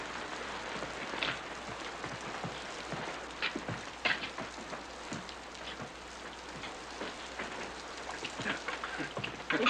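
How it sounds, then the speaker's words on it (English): Steady rain patters on surfaces outdoors at night, a dense even hiss with scattered louder drops, moderately loud and with no one speaking. "Looks like the rain's letting up some."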